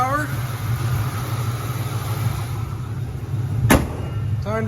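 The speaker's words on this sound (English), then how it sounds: "been idling for about a half hour" Steady low rumble of an idling muscle car engine throughout, close and even, with a brief sharp click or thump near the end.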